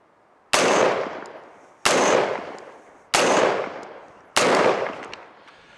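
Four close-range gunshots from a rifle fitted with a Vortex VMX-3T magnifier crack out at even intervals of just over a second, each a loud, sharp blast with a decaying tail.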